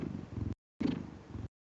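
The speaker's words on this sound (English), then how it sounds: "Can you hear him purring?" Close, low rumbling purring in two bursts separated by a brief silence, soft and rhythmic.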